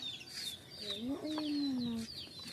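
A chicken clucks and calls near a Filipino farm home, with rising and falling tonal calls that are clear against faint background voices and household sounds.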